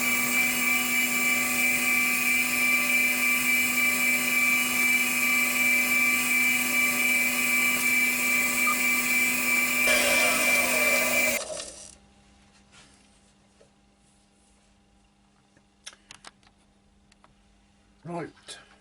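A steady high whine of a spinning lathe sanding a turned pen runs loud for about ten seconds, then abruptly stops, leaving quiet room tone and faint clicks.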